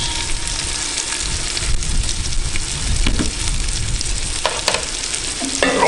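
Garlic and onions fry in a potjie pot for a chicken and mushroom dish, a steady loud sizzle with stirring scrapes and a few metallic clinks near the end, no voices.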